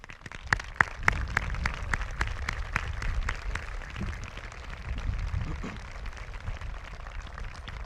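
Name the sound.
graduation crowd applauding supporters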